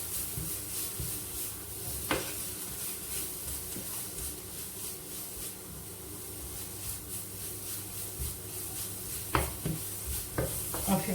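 Ground meat spiced with cumin, turmeric, ginger, salt and pepper simmers in a pan with a soft, steady sizzle, broken by stirring scrapes and a few sharp clinks of a utensil against the pan.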